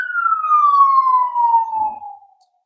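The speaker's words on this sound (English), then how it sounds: "Sorry about the siren." A single city siren wail sweeps slowly downward in pitch and fades out, heard from a distance with no voices.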